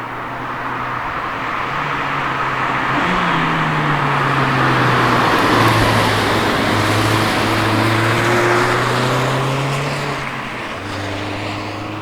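A Mazda MX-5 35th anniversary edition sports car is heard from inside as it drives, its engine droning steadily and pitching up and down through gear changes over loud road and wind noise.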